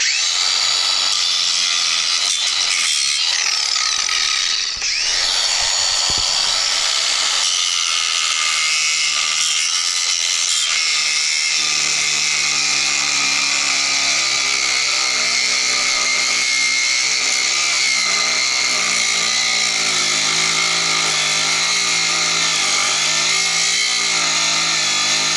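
A Ryobi angle grinder runs continuously at full speed, a loud, steady high-pitched whine that holds for the whole stretch after a brief wobble near the start, with no talking.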